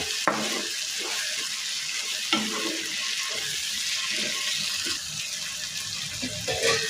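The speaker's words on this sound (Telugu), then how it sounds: "మూత పెట్టుకొని ఒక రెండు నిమిషాలు మగ్గించుకోవాలి" Egg curry cooks in a covered pan, a soft, steady sizzle and bubbling hiss with occasional light clatters of a lid or utensil, fairly quiet and with no one talking.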